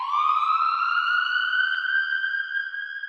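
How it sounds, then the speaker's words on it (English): A single siren sound effect in a hip-hop beat wails steadily and slowly rises in pitch, clear and prominent with nothing else beneath it. "you just have that siren coming in"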